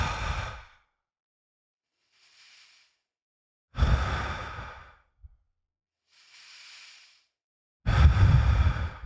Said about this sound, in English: So as I'm breathing with the circle, inhale, exhale, inhale through the nose.